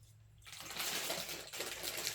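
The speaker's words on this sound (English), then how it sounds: "Let's put the water in first and start heating that up." Water pours into a pot meant as a water bath for melting caramels, a faint low hum first, then a rushing splashy pour that swells and continues to the end.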